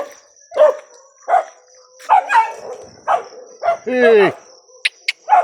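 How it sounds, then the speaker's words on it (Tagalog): Several dogs bark in short, loud bursts, one drawn-out yelp or howl-like cry among them, with a person shouting nearby between the barks in an early-morning outdoor setting. "Itong mga asong ito eh."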